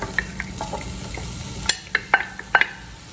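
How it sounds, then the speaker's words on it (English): Peppers being sauteed in a little oil in a skillet, a soft steady sizzle with several sharp stirring clicks and scrapes of a utensil toward the end, close and alone. "we're going to just saute the veggies just until they're fork tender a little bit"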